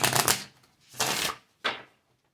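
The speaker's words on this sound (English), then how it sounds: "Even though this deck is so big, I have to divide it in half so I can shuffle it." A large tarot deck split in half is riffle-shuffled, three bursts of crisp card flutter, the first longer and the last short, close and distinct with no talk.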